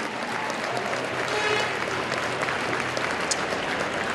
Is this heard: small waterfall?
no